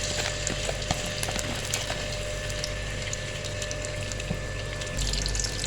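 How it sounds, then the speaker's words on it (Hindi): Ginger garlic paste frying in half a cup of oil in a pan gives a steady, even sizzle with faint crackles throughout, close by and with no talk. "इसको हम थोड़ा सा फ्राई करेंगे"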